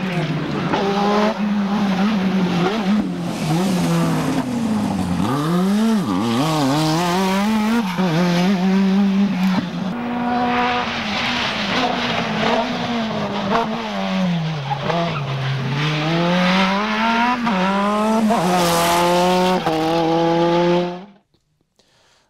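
A 1985 Renault 5 Turbo 2, a restored rally-bred hatchback, is driven hard for about 21 seconds, its turbo engine rising and falling through repeated gear changes with audible tyre squeal before cutting off abruptly.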